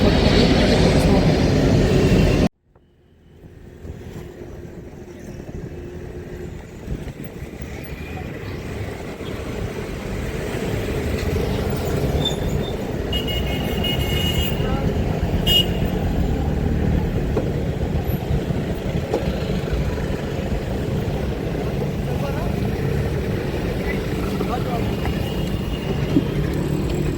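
Inside a shared auto rickshaw in city traffic, a brief loud burst cuts to near silence, then steady engine and road rumble builds and carries on for the rest of the ride.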